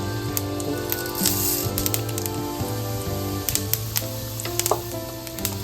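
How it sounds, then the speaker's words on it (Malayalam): Mustard seeds splutter and pop in hot coconut oil heated over medium flame, a steady dense sizzle dotted with sharp crackles, close and loud, with no talking. "കടുക് വെറുതെ അങ്ങോട്ട് പൊട്ടട്ടെ കേട്ടോ"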